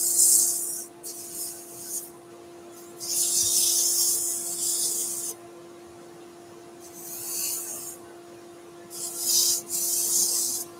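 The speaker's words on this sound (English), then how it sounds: "So this is 100 grit. So this is going to take the bulk of the sanding." Sandpaper at 100 grit rasps against a turned wooden salt or pepper grinder spinning on a lathe, in several bursts of dry scratchy hiss with short pauses between. A steady low machine hum runs underneath throughout.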